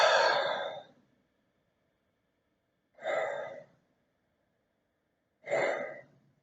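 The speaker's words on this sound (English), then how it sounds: "we'll close by taking 3 more deep breaths." Three slow, deep breaths, each a soft breathy exhale lasting about a second, spaced by silent pauses, close and alone with no talk.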